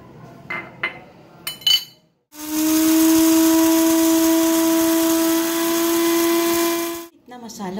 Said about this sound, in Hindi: इतना मोटा मोटा सा हमने पीसा है इसे मछली में लगाने के लिए